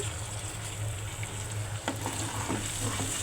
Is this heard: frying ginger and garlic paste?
yes